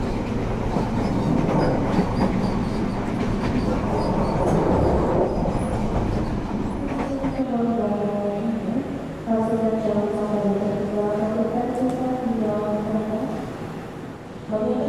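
Brawijaya executive passenger train in motion, heard from inside the carriage: a loud, steady rumble with rhythmic clickety-clack from the wheels and a drawn-out squealing tone rising and falling midway through.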